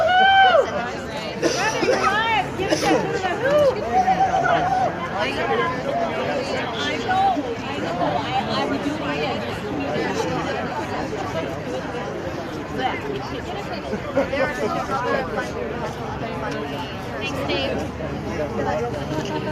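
Dense crowd chatter at a courthouse protest after a mistrial, many voices overlapping close by in a steady hubbub that holds for the full stretch.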